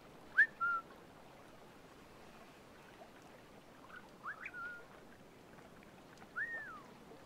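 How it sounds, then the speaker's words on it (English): A character in Assassin's Creed Rogue whistles a few short, thin rising and falling notes, quiet and spaced apart over a low ambient background. "I swear I didn't do the voice acting for that whistle."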